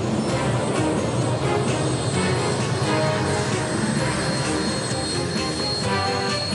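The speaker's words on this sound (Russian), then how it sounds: "за несколько секунд самолет X-15 поднимается в верхние слои атмосферы." X-15 rocket plane climbing toward the upper atmosphere, a loud continuous roaring engine rumble that holds steady throughout, with no clear talk over it.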